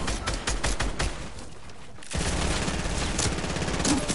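Rapid bursts of automatic gunfire from enemies in Fortnite crackle loudly, pause briefly, then resume in dense rattling volleys.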